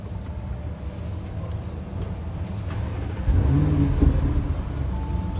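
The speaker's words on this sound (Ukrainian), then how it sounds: "Давайте запущу вам автомобіль, щоб ви послухали звук." An Audi Q8 engine runs with a steady mid-pitched hum, then revs up louder for a few seconds before settling into a strong idle.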